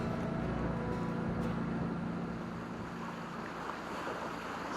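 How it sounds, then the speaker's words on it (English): A motorboat travels up the St. Clair River, its engine a low continuous hum beneath steady wind and water rush, even and unbroken throughout with no voices. "as I motor up the St. Clair River"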